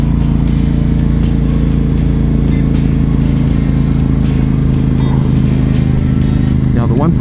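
A car drives down a hilly country road near Millgrove, Ontario, its engine a steady loud drone with road rumble throughout and someone talking over it.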